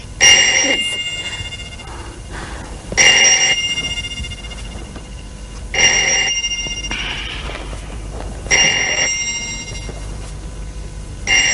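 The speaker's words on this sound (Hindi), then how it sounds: "दानी प्लीज जाके फोन सुनो" A telephone rings indoors in a home, four loud bursts of bright electronic trilling with short quiet gaps between them and no talk.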